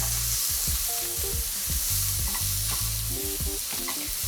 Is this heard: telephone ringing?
no